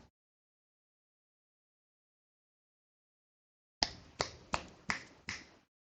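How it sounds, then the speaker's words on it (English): Five crisp finger snaps close to a microphone in a quiet room, evenly spaced about a third of a second apart, following several seconds of near silence. "if I snap my fingers over here"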